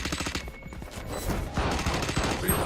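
Rapid gunfire in the video game Valorant, a dense burst of repeated shots running through the whole moment at moderate loudness, with no clear talk over it.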